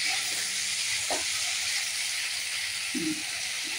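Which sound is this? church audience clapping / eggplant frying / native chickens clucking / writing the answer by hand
eggplant frying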